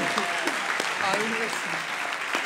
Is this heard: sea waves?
no